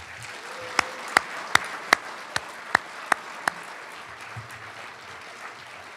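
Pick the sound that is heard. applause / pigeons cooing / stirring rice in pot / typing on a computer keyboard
applause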